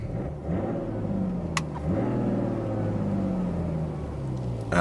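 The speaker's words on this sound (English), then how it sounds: "took the car for a little run." A car is driven on a test run after an ABS sensor replacement, its engine droning steadily from inside the cabin with gentle rises in pitch as it accelerates through gears, and no talking.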